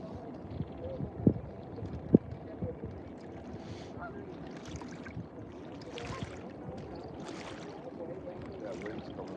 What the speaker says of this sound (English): That wind's coming back, y'all.